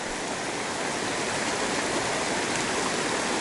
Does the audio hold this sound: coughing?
no